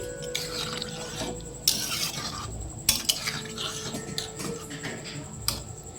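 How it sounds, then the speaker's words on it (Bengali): Boiled peas being stirred in a pan with fried spices and goat fat for ghugni, scraping spoon strokes and soft sizzle with a few sharper clatters, close and moderate. "মটরটা দেওয়ার পরে ভালো করে একটু নাড়াচাড়া করে নিচ্ছি"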